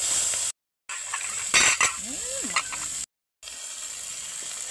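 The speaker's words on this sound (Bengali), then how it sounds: "এখন এটাকে আমি ভালোভাবে ভেজে নেব।" Cinnamon, cardamom, panch phoron, garlic cloves and onion sizzle steadily in hot oil left over from frying fish, with a brief clink of a utensil against the pan midway; two short cuts drop the sound to silence.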